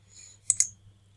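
Two quick computer mouse clicks in a row, sharp and close, alone over a faint low hum.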